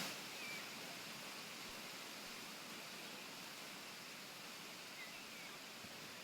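Aek Batu Manarus waterfall in North Sumatra roaring as a steady, even wash of broadband noise throughout, heard from some distance, with no talk over it.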